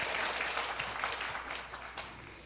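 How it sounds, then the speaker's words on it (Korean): A congregation applauds the choir and conductor during a Wednesday church service, a quiet, fairly brief burst of clapping from the room that fades toward the end. "우리 박수 한번 보내주세요."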